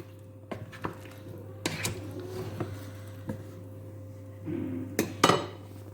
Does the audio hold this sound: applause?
no